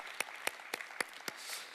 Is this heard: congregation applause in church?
yes